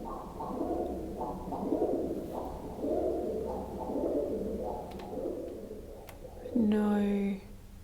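A dove coos in a repeated, soft, rhythmic pattern roughly once a second, fairly close, with faint murmuring and a brief sharper noise near the end.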